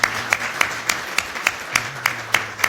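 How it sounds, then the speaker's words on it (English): A small audience at a corporate imaging presentation gives a brief round of applause, with sparse separate claps landing in a slow, even rhythm over a quiet room. "a round of applause for everyone"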